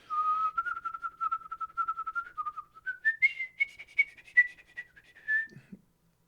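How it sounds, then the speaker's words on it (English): A person whistles a melodic tune, steady and clear at first, then broken into quick rhythmic notes by tongue taps, close to the microphone and alone, ending with a soft low thump. "it would sound less clean if I do like tongue tap whistling"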